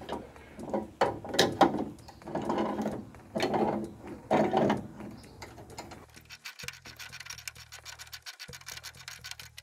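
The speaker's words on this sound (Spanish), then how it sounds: "funciona de 10 el prensa espiral, prensa el resorte" A homemade coil spring compressor is cranked down on a Ford Falcon coil spring: scraping, grinding mechanical strokes come first, followed by a steady run of close ratcheting clicks.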